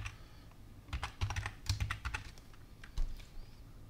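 Keys on a computer keyboard clatter quietly as a password is typed, a brief irregular run of close, soft clicks with no voice.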